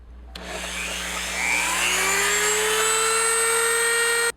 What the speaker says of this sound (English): I recommend the little sawtooth blade on the Dremel and the rotary tool. This will cut it out a lot faster and a lot cleaner